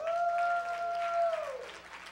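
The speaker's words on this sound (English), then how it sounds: "Give him a hand clap." A church congregation claps and applauds at a pastor's birthday celebration, a steady dense patter of hand claps lasting about two seconds, with a sustained musical tone ringing over it before the clapping thins out.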